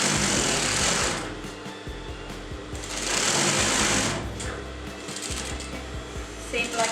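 A sewing machine stitches fabric for a tote bag in two loud, close bursts of rapid mechanical whirring, separated by brief pauses while the needle stops at a corner.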